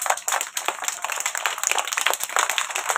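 A group of children claps hands together at a Teachers' Day prize-giving, a steady, dense patter of many close, overlapping claps filling the whole stretch with no voices over it.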